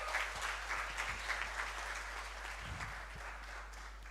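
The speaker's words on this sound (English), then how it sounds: "Come on, guys, a good round of applause of encouragement." An audience at a 2025 Atria University graduation ceremony claps in encouragement, a steady wash of many hands at moderate level with a low hum underneath and a brief rumble partway through.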